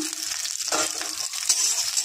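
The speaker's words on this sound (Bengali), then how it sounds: "এবার একটু ভাজা করে নেব ভালো করে।" Peanuts, fennel seeds, nigella seeds and garlic frying in mustard oil give a constant, close sizzle with a quick stirring scrape near the middle, running for about two seconds without talk.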